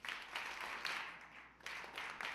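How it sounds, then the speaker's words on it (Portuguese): Church congregation clapping in rhythm during a celebration service, faint, with regular bursts of claps recurring about every half second. "Com gritos de louvor. Batendo palmas."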